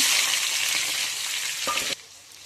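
Onions fry in hot oil with cumin and mustard seeds for a green pea and potato curry, a loud close sizzle and stirring that cuts off abruptly near the end.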